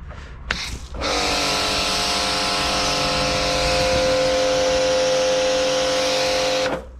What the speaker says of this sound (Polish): Na auto najpierw wleci z pianownicy.